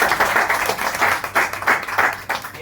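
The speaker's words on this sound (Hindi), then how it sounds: "जोरदार ताली बजाओ बच्चे के लिए।" Loud, steady applause from an audience clapping for a student at a network marketing training session, rising and falling in dense bursts with no talk.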